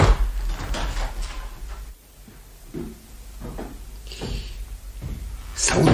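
Doors being shut in a 1958 Romanian radio play, heard as a few soft thuds and clunks spread over several seconds, with a quieter gap in between and no talking.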